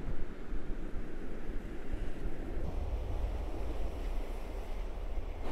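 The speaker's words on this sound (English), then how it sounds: "it's like the waves have gotten even rougher since I first walked out here." Rough waves on Lake Superior at Gooseberry Falls roll and crash steadily close by, a continuous churning surf mixed with gusty wind buffeting the microphone, with no voices.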